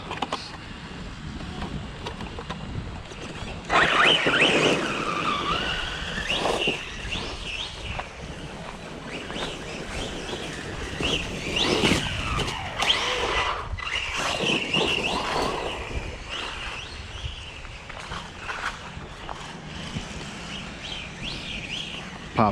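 A small remote-control car, a Losi Lasernut or Axial Ryft, driving nearby with a whining high-pitched electric motor that rises and falls over about twenty seconds, mixed with outdoor ambience, birdsong and faint voices.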